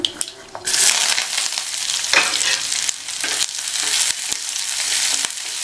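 Small onions and curry leaves hit hot oil already crackling with popped mustard seeds and urad dal, giving a loud, close, continuous sizzle with stirring scrapes and brief clicks, no voices.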